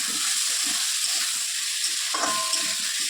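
Small potatoes hitting hot fried spices in a pan for ghugni, giving a steady close hiss and sizzle with faint scraping, and a brief brighter tone partway through.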